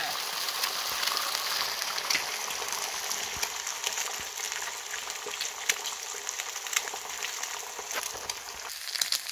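A cracked egg sizzling in a hot pan beside bacon, a dense and steady crackling fry with fine popping spatters, close and even throughout, without talking.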